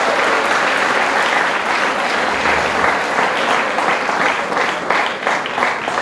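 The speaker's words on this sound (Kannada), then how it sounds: "ಒಂದು ಸಲ ಎಲ್ಲರ ಜೋರಾದ ಚಪ್ಪಾಳೆಯನ್ನು ತಟ್ಟು ನೋಡೋಣ" Loud, sustained applause from a crowd at a folk literature talk in Ramadurg, dense clapping filling the whole stretch without pause and with no clear speech.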